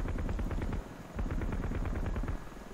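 A 30 mm helicopter gun in the video game Heliborne fires two fast, rattling bursts of rapid thudding shots, loud and close. A brief pause separates the bursts, and there is no talking.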